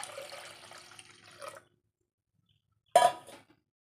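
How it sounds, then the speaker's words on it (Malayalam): Water poured into milk in a pressure cooker makes a short splashing pour, a pause of silence, then a second brief close splash. "കുറച്ച് വെള്ളം കൂടി ഒഴിച്ചു കൊടുക്കാം."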